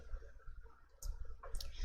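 Computer mouse clicks while working on an Excel spreadsheet, a few sharp clicks near the end over faint room noise, with no talking.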